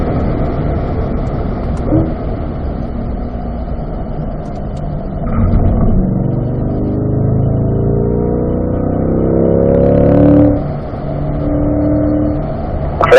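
Chevrolet C8 Corvette engine on a track during a performance driving school, heard from inside as a muffled, steady drone that rises in pitch as it accelerates through the gears.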